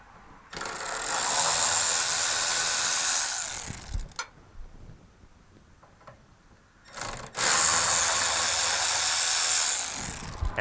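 A ratchet driving a T25 Torx bit loosens the two tail lamp screws on a 2002-2006 Dodge Ram, with two long bursts of rapid close clicking separated by a quieter pause.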